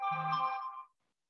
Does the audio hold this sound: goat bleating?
no